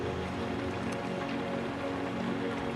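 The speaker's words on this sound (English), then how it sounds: "Let the heavy shadow of that recent panic attack dissolve into the continuous sound of rain." Continuous rain falls in an even, soft hiss with faint patter throughout, steady and unbroken, with no voice.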